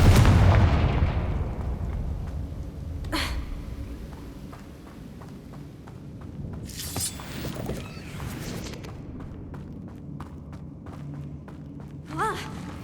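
A Confringo blasting spell explodes in Hogwarts Legacy, opening with a loud boom that rumbles and fades over several seconds, followed by sharper cracks and scattered impacts from the game scene.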